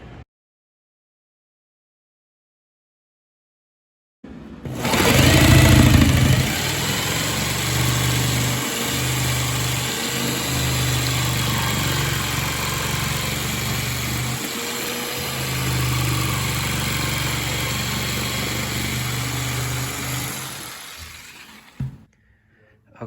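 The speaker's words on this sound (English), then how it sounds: "just finished drilling and cutting the hole" A power tool bores and cuts a cord hole through a conference room tabletop, a loud steady whine and rasp running for about eighteen seconds after a silent start, with small dips in the middle and a sharp stop at the end.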